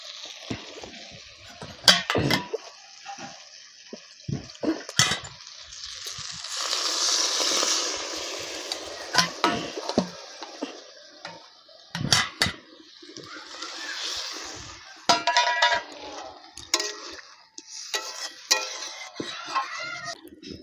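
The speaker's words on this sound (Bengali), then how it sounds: "ঝোল আমার ফুটছে" Bengali egg masala curry gravy bubbling in a pan, a steady simmering hiss broken by sharp clinks of a spoon against the pan, loud and close, no talking.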